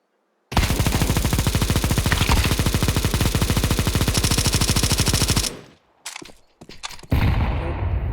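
Loud, rapid automatic gunfire in Counter-Strike 2 in a long sustained burst, then a brief pause and a few more short bursts.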